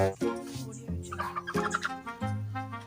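Chickens clucking close by in a rhythmic series of short, harmonic calls, several in quick succession, with a voice briefly mixed in.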